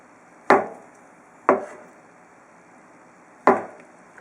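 Knife cutting konjac into dice-sized cubes on a cutting board, three sharp separate chops with short decays, close and clear in otherwise quiet surroundings.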